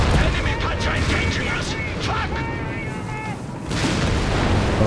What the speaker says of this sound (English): Good salvo of bazooka shots.